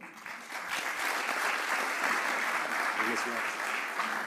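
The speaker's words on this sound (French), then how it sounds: "je vous propose d'applaudir ce partenariat" Steady, sustained applause from an audience fills the whole stretch, dense clapping at an even level, with some voices mixed faintly underneath.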